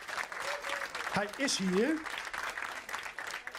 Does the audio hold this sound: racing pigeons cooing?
no